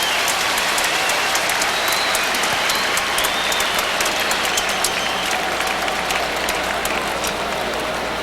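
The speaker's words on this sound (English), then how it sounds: "Applauded off the podium by the United States of America" Sustained applause from a large stadium crowd at the 1991 Women's World Championship football final, USA versus Norway, a dense steady patter of clapping that holds at full level throughout.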